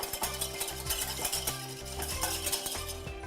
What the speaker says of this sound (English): at the end, I'll start whisking here